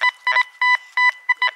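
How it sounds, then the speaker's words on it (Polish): A Golden Mask 1+UK metal detector gives its coin signal, a loud run of about five clear, evenly spaced electronic beeps, each a short steady tone, sounding alone. "że to jest moneta, ten sygnał"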